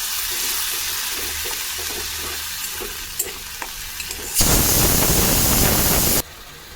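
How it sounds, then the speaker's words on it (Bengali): A ground spice paste hits a hot pan and is stirred, moving from soft scraping and light sizzle into a sudden loud, hissing surge of frying that cuts off abruptly near the end. "এই মশলাটা আমি পেস্ট করে নিয়েছিলাম এটা আমি ঢেলে দেব ভালো করে নাড়াচাড়া করে নিতে হবে"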